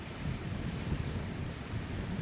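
Strong wind buffets a camp stove setup outdoors, a steady loud rumbling roar against the microphone with no pauses and no voices.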